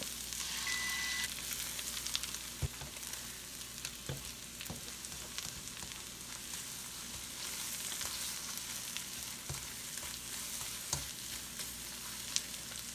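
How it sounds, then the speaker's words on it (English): Eggs fry in sesame oil in a hot pan alongside bacon and vegetables for low-carb fried rice, a steady close sizzle and crackle throughout with occasional sharp pops and scrapes, no voices. "I'm going to go and add some more sesame oil. And then I'm going to cook the eggs."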